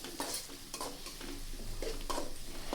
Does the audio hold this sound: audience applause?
no